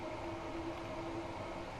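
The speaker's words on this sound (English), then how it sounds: "I thought that was a freight train then" A freight train passes in the Train Sim World 2 London commuter game, a steady rumbling roll of wagons with a faint tonal whine, continuous and moderately loud.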